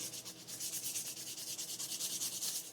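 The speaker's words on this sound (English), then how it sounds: "Sanding. That's what I've been doing all day." Steady abrasive sanding on a Homelite Super XL piston and cylinder, a rhythmic back-and-forth rasp repeating about every tenth of a second, close and continuous with no talk.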